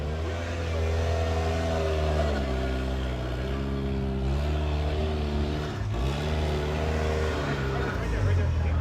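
Off-road rock crawler engine revving hard on the WERock Grand Nationals course in Farmington, New Mexico, a loud continuous engine tone rising and falling in pitch as the throttle shifts, with a commentator talking over it throughout.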